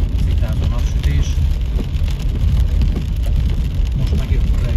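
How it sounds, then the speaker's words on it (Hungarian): Heavy rain pours steadily around a rider descending a hill road at 14 degrees, a dense close hiss of drops and spatter with low rumbling wind and motion noise underneath, with no talk. "szakad az eső."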